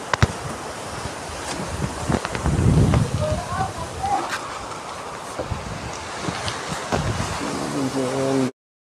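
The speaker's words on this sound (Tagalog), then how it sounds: "Malakas yung hangin." Strong typhoon wind roars outdoors in loud buffeting gusts against the microphone, with rustling and scattered knocks, while people talk intermittently.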